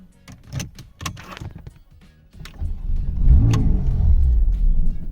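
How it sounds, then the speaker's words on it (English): A 2017 Porsche 911 fitted with an immobiliser: a few clicks and door or key sounds, then the engine cranks and catches with a loud rising rumble that holds before settling, close by. "If someone was to grab this key, jump in and try and start it, you'll see that the vehicle starts and cuts out."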